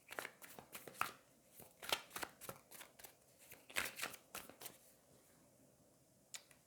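A tarot deck is shuffled by hand, close and quiet, in a series of crisp riffling and tapping bursts that come irregularly, then thin out toward the end.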